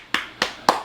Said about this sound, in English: I was just clapping over here over that.